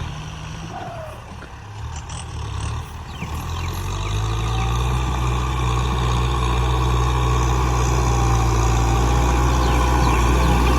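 A farm tractor ploughing a sandy rice field, its engine rumbling steadily and close, rising in loudness and holding a constant drone, with no talk.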